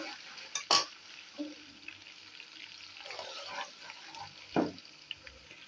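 Ginger garlic paste fries in ghee with a faint, quiet sizzle, broken by a few sharp stirring clatters and scrapes of a utensil in the pan, no voices.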